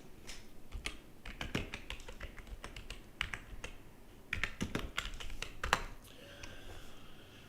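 Quick clicks of fingers typing on a computer keyboard, irregular bursts of close, light key taps with short pauses between words.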